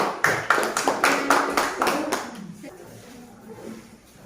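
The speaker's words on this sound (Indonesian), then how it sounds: "tepuk tangan kelompok 3 dan silakan dulu" A classroom group claps briefly: about a dozen distinct, fairly loud handclaps in an uneven rhythm over two seconds, then the clapping stops and quiet room noise with faint murmuring remains.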